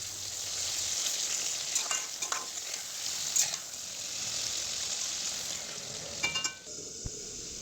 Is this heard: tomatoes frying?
yes